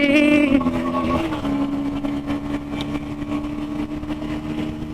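A KTM Duke 160 motorcycle engine runs steadily while riding on a city road, a close, continuous hum that rises in pitch near the start and then holds at a constant drone.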